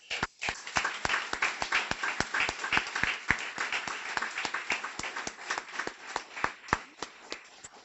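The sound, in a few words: audience applause for puppy raisers at graduation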